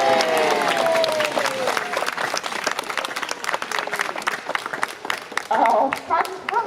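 Crowd cheering and clapping at a sea lion show in a wildlife park, mixed with an announcer talking over the audience, with a rising swell of applause near the end.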